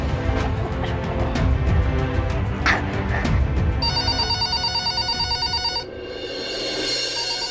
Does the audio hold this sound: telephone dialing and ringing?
yes